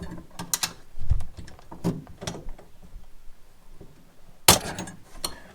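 Locking grips clamp onto the suspension of a Citroen Dyane, giving mechanical clicks and ratcheting snaps with scattered knocks, and one sharp loud crack near the end.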